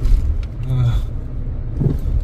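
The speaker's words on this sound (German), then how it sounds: "Kommt noch ein Auto." Car passing on a city road in Regensburg, a steady low engine and tyre rumble that swells and fades across the short span, with faint background noise.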